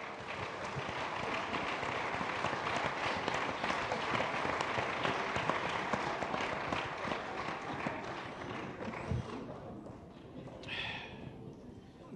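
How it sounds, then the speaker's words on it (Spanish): An audience at a sermon-style gathering claps, a dense, steady patter of many hands that carries on for several seconds before thinning out near the end, heard at a moderate distance. "Denle un aplauso al Señor, mijo"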